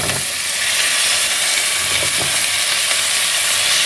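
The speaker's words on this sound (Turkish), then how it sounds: "Patateslerimi de biraz daha yağla böyle kavuracağım." Potatoes frying in oil with carrots and onions for a soup, a loud, steady close-up sizzle with faint stirring, no talk.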